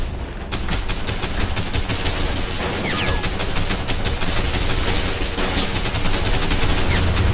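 Tank machine guns in the Men of War video game rattle in long, dense sustained bursts, rapid sharp reports packed close together and loud throughout, with battle noise underneath.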